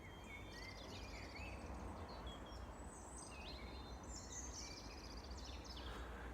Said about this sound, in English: all you can hear is the Tweety birds.